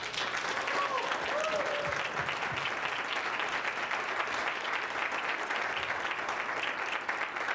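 A large crowd at a political rally in Philadelphia applauds steadily, a broad, even wash of clapping from a distance with a few cheers and voices mixed in.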